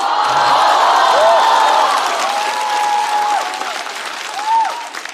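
A stand-up comedy audience applauds loudly and steadily, with scattered cheers and whoops rising above the clapping.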